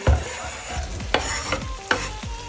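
Chopped onion added to a hot pan while cooking funchoza, a steady sizzle marked by several sharp clatters of utensil against pan at an uneven rhythm.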